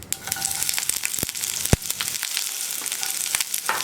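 Onions sliced into rounds hit hot oil with mustard seeds for a Kerala koottucurry, a loud close sizzle with sharp crackles and pops, no voices.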